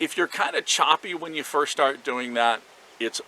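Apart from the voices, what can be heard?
No everyday noises stand out.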